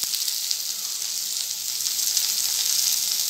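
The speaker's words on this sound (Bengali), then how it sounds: "তো চচ্চড়ির জন্য সবজিটা ভেজে নিচ্ছি।" Vegetables frying in a pan with five-spice tempering for a Bengali chorchori, giving a steady, close hiss and sizzle of hot oil with no talking.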